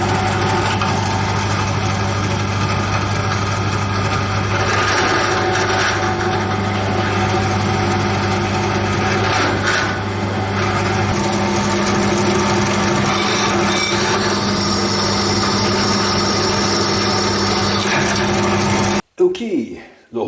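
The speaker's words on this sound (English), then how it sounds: "I marked where I have to drill the holes" A power drill bores holes in a suitcase handle, running as a loud, continuous motor whine for about nineteen seconds before stopping abruptly.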